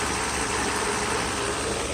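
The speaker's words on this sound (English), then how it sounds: "The engine runs good." A Mercedes S600 engine runs steadily at idle after wiring repairs, with mass air flow sensor faults, giving a constant, close mechanical drone with no voices.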